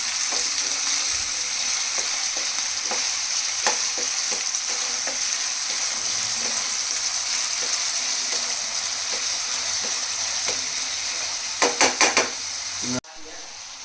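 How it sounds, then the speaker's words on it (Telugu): Onions frying in a pan until brown for an egg keema curry, a steady close sizzle with occasional stirring scrapes and a few sharper utensil clanks near the end. "చక్కగా బ్రౌన్ కలర్ వచ్చేదాకా వేపుకుందాం."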